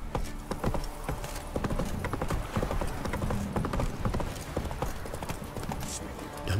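Roach the horse's hooves clip-clop steadily at a walking pace in The Witcher game, a dense continuous patter of hoofbeats throughout, with faint game ambience.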